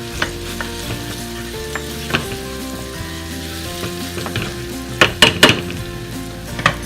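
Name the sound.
garlic, onions and jalapenos frying in a pan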